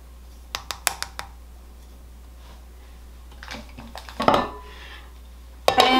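A few light clicks and taps come first, then a louder clatter as a lid is set onto a crock pot, ending in a sharp ceramic clink; everything is close by and there is no talk.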